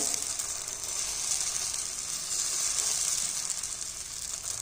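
Vermicelli batter spread thinly with a ladle sizzles in hot oil over a medium flame, a soft, constant frying hiss at moderate volume with no talking.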